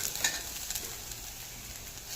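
Potatoes and peas sautéing with garlic-coconut paste in a pot, a soft steady sizzle with light stirring scrapes, fairly faint and continuous with no talk.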